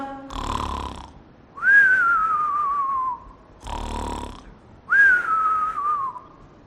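Cartoonish snoring imitated by voice: a raspy inhale snort followed by a long descending whistle, repeated twice in a slow sleepy rhythm.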